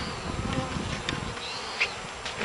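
Honeybees buzz steadily close by at a new hive, a dense droning hum with individual bees rising and passing near at moments.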